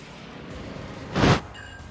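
AP bombs from dive bombers strike a ship in World of Warships, a single loud broadband blast swelling for about a quarter second over a steady low battle rumble.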